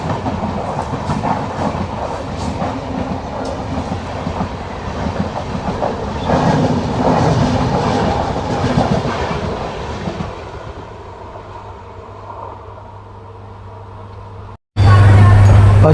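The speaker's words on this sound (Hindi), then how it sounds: "बड़ी ही लंबी दूरी की ट्रेन है ये।" The Nangal Dam Express, train 14505, runs on rails with a loud, steady rumble and rhythmic clickety-clack heard from on board. The noise eases near the end before a brief break and a sudden loud burst.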